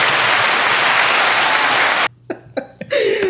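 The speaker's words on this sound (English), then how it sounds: "Can I give myself an applause?" Small group of people clapping for about two seconds, dense and close, then cutting off abruptly into brief coughs and chuckles from the room.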